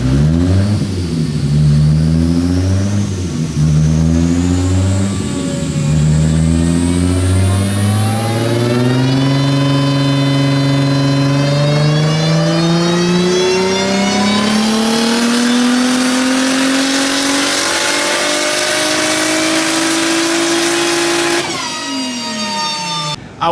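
A tuned Toyota Supra engine revs hard and climbs steadily through a long, loud pull, its pitch rising smoothly for about twenty seconds before cutting off abruptly.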